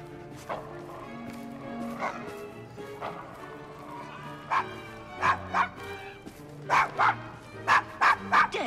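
A dog in Assassin's Creed Syndicate barks repeatedly at a stranger in Victorian London, a string of sharp, moderately loud barks that grow quicker and closer together toward the end over faint background ambience.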